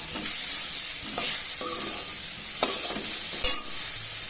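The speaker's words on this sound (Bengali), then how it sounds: "হলুদ আর লবণ দিয়ে একটু নাড়াচাড়া করে নিচ্ছি" Water spinach is stirred in a pan with salt and turmeric, making a steady bright hiss of frying under repeated scraping and clattering strokes, fairly loud and close.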